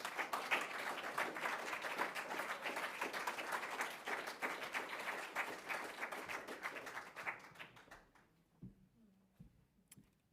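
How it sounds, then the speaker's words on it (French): A conference audience applauds at the close of a project review, dense steady clapping that gradually thins and fades out, with a few scattered claps and faint sounds at the end. "vous pouvez les applaudir parce qu'ils le méritent"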